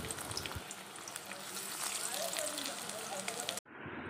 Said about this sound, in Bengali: পুরের পেছনের দিকটাই ভেজে নিচ্ছি, তারপর পুরের দিকটা উল্টে দেবো।